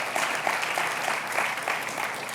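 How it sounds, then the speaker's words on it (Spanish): A church congregation claps steadily through a Spanish-language worship service, a dense, even patter of many hands that fills the room without a break. "Le das un aplauso al Señor por eso."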